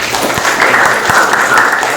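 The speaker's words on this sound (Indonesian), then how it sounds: "Tepuk tangan untuk Reni." Students in a classroom clap for a classmate after she reads a short story aloud, a brief, loud and dense burst of applause close by.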